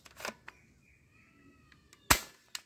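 Toy airsoft pistols, a black M911-style handgun among them, snap off sharp shots: a short burst near the start, a faint click mid-way, then one loud crisp crack and a smaller snap at the end, close to the mic.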